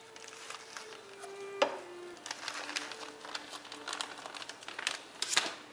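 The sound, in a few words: stirring spicy turkey mixture while cooking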